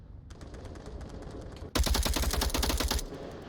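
A burst of rapid gunfire in the VR shooter Onward, a dense string of sharp shots lasting over a second, following quieter background game ambience.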